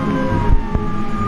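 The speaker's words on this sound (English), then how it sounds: "I hear police cars." Police car sirens sound at a distance, a steady wailing tone running through the whole short stretch, with a couple of brief dull knocks nearby.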